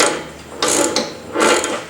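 Socket wrench ratcheting on a rear end assembly, heard as two short bursts of quick clicking, each followed by a pause.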